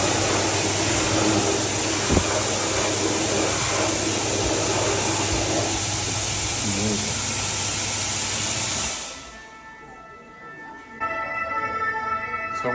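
Loud, steady roar of a restroom hand dryer blasting for about nine seconds, then cutting off abruptly, leaving a quieter room hum with a faint sound of people beyond.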